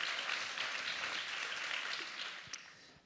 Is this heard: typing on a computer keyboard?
no